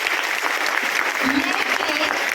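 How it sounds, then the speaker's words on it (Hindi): A crowd applauds Dr Lim at a DXN weight management talk. The clapping is loud and sustained throughout, and a low murmur of voices is mixed in underneath it. "एक बड़ी ताली होनी चाहिए डॉक्टर लिम के लिए"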